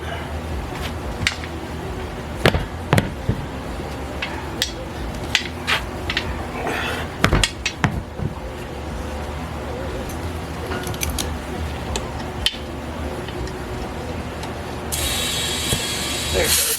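Removing the valve stem insert from a new valve stem while mounting 33-inch tires, heard as scattered small metallic clicks and ratcheting ticks in a quiet shop, with one short hissing burst near the end.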